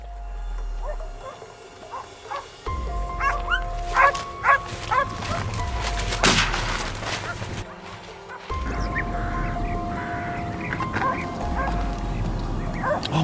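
Hunting dogs chase wild boars on a Turkish farm, giving repeated sharp barks and yips of varying loudness over a steady background drone, with a person talking at times.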